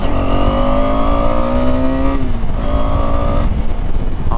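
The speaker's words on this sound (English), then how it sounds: "Okay, acceleration is decent," A KTM 250 Adventure motorcycle accelerates hard, its engine note climbing steadily through the gears in rising sweeps with a brief dip at a shift, loud and close amid constant wind rush.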